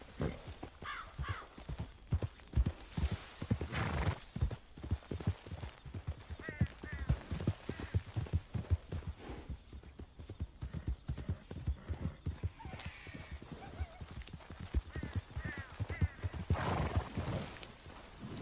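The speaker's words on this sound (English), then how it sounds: "some folks like to get their horse running in a circle first" A horse's hooves clip-clop in a quick, steady rhythm, close and loud, with a couple of whinnies mixed in and no talking.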